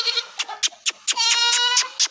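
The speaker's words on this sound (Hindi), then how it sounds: "और ये वाली बकरी है बेजन" A Rajanpuri pink goat from Pakistan, a doe with four kids kept for milk, bleats close by in a few short calls, then one longer, wavering bleat and a final short cry.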